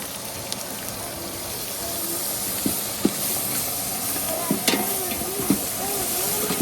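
Onion and green chicken masala frying in a pan in a Karnataka village kitchen, a broad steady hiss of sizzling oil with occasional light clinks of a spoon, close and continuous with no talking.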